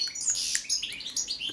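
Several Balkan goldfinches in an aviary chatter in a quick burst of high, liquid twitters and chirps, close and steady across a short stretch, with no people speaking.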